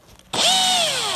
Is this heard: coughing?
no